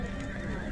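Very short, faint clip from a horse market in Sokuluk, Chuy, with a horse's brief neigh amid low background noise.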